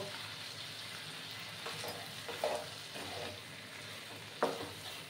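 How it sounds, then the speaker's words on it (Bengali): A spice mixture with salt sautéing over low gas flame for a Bengali fish curry, a soft continuous sizzle with a few distinct clinks and scrapes of a spoon in the pan, close by and unaccompanied by speech. "কিছুক্ষণ সময় নিয়ে মশলাটাকে একটু কষিয়ে নেব"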